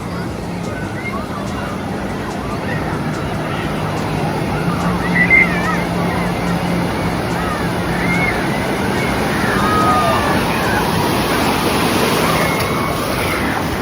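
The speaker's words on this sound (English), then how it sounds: "maybe actually one of the biggest wave pool waves ever." Large wave pool waves roll and wash continuously in a broad, steady rush, with faint voices and distant background activity mixed in.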